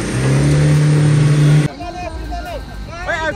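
A Mahindra Thar's engine revs loudly and steadily while it pulls a stuck Scorpio off-road in a jungle. The revving drops off abruptly partway through, and people are heard talking afterwards.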